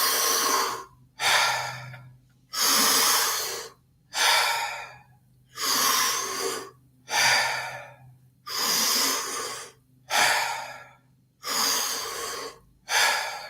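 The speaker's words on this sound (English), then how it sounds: "Nice, big, deep breaths. Fully in and letting go." Deep breathing during a Wim Hof breathing exercise: loud, close cycles of big inhales and releasing exhales in a steady rhythm, about seven full breaths, each a rushing airy swell followed by a brief pause, with no talking.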